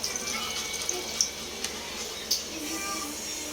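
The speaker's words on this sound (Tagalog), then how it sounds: "naglagay na ako ng tubig para magpakulo" Water runs from a tap into a pot being filled for boiling pancit canton noodles, a steady close splashing stream with a few small clinks, alone without talk.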